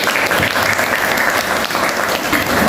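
Applause from a classroom audience at the close of a teaching session, a dense, steady wash of many hands clapping together at full volume throughout, with no talk over it.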